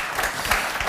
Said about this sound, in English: Could we infuse our panel with a final round of applause